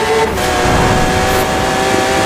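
A 1998 Subaru Impreza 22B STI pulls hard in fifth gear, its engine a loud, steady, continuous drone with no pauses, heard from inside the car.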